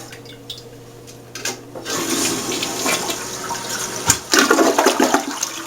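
A newly installed toilet flushes up close, starting with a faint click and trickle, then swelling into a loud, rushing, gurgling surge of water.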